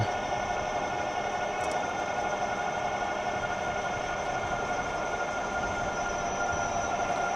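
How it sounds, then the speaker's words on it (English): A steady high-pitched electric motor whine from a Euphree Stellar Falcon 2 e-bike at about 24 mph over constant rushing wind and road noise, continuous and fairly loud throughout, with no voices. "I think that's pretty representative of what the motor sounds like"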